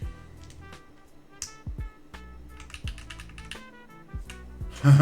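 Steady typing on a Macross65 mechanical keyboard fitted with GMK keycaps: dense, irregular clacks with occasional heavier thocks from larger keys, close and clear with no talking.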